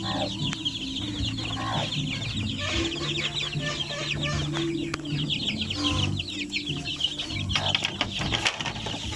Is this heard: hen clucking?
yes